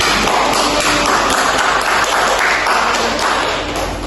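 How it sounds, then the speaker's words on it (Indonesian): A primary school class claps for a student named Teresi, loud, dense continuous applause from many small hands close by, holding steady before easing slightly toward the end. "Tepuk tangan dulu Teresi."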